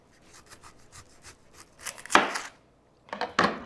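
A knife slices the ends off an onion being prepped for smoked onion rings: soft rubbing and handling first, then two sharp, crisp cuts close up, with no talking.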